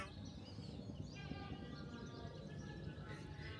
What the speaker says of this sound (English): Do you hear those birds just chirping away?